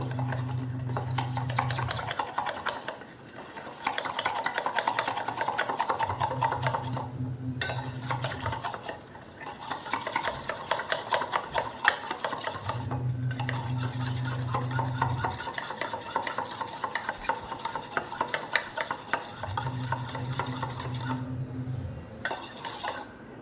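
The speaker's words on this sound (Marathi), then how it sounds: "आणि अशा प्रकारच्या स्पॅच्युल्याने आपल्याला ते फेटून घ्यायचे आहे" A spatula beats nankhatai dough with powdered sugar in a bowl, making rhythmic scraping and slapping strokes. They come in steady bursts with brief pauses, close up and moderately loud.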